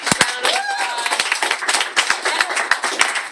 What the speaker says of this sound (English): everyone just give yourselves a big round of applause